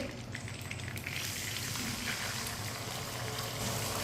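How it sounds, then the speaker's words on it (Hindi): Sizzling and bubbling in a pan as a little water is added to sugar and cooked rice while making sweet zarda, a steady, moderately quiet frying hiss that lasts throughout. "थोड़ा सा पानी डाल लेंगे।"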